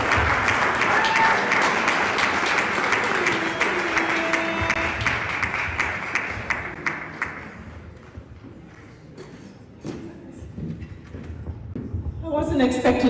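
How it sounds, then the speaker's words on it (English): A banquet audience at a fundraising dinner gala applauds a district candidate called up to speak. The clapping is loud at first, then thins and fades to scattered claps, and chatter rises at the end. "Can we clap for her?"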